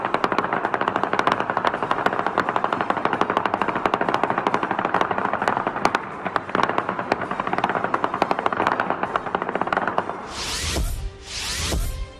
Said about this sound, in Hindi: तालिबानियों ने खूब गोलीबारी की और अपनी खुशी का इजहार किया